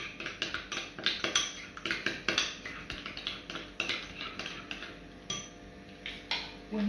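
Crushed garlic and half a shallot mixed in a bowl for a summer salad, with rapid, rhythmic clinking of a utensil against the bowl, close and fairly light.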